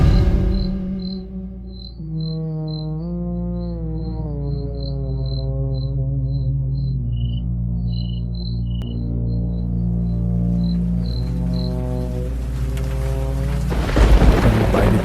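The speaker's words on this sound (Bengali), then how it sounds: "ঝড়ো বাতাস আর ঝিঝি পোকার ডাক এক অদ্ভুত নৈশ প্রকৃতির সৃষ্টি করেছে" Crickets chirp in a steady, high rhythmic pulse at night over a deep continuous rumble of wind and storm, with a low tonal drone; a loud burst of wind-like noise swells at the end.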